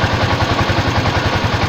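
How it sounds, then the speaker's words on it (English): A fuel-injected motorcycle engine runs close by after starting, a loud, rapid and even pulsing chug that holds steady throughout with no voices. "Okay, so now let's start the bike."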